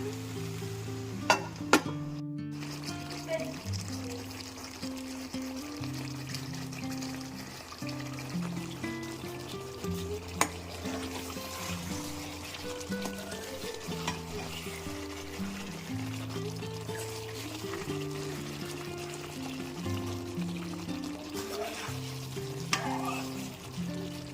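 Chicken ghee roast simmering in ghee under a plate covering the pan, a steady soft sizzle and bubbling running throughout with low rhythmic tones and an occasional clink near the start.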